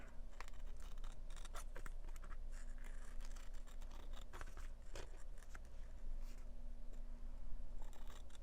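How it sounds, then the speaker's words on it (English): Scissors fussy-cut around a paper leaf cut out for a steampunk nature craft page, a quiet run of small snipping and scraping sounds close by, with no talking. "I will just fussy cut it out just to get rid of that white a little bit."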